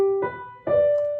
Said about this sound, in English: skips sound like this.